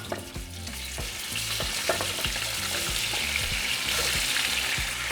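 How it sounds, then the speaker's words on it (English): Country-style short ribs frying in bacon fat in a pot, a dense close sizzle with repeated crackling pops and stirring clicks building slightly in loudness, with no voices. "And in the same pot, we're going to add 2 pounds of country-style short ribs."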